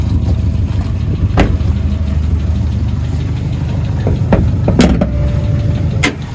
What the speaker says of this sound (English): Exhaust a little rattly.